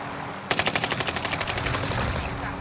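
Rapid automatic machine-gun fire in a first-person shooter game, one loud burst of about twenty evenly spaced shots that starts abruptly, holds a steady rhythm and then fades into a noisy background.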